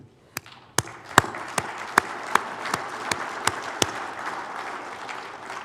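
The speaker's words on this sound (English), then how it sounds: "They deserve a big round of applause." Sharp, evenly spaced claps ring out one after another at a conference, about a dozen in steady rhythm, over a low background murmur.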